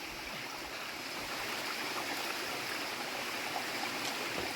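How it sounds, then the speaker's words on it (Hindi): A hidden mountain waterfall falls in a steady, full rushing roar that stays even and close throughout, with no voices over it. "उस शानदार जगह में पहुंच गए हैं जहां पर ये वाटरफॉल गिर रहा है"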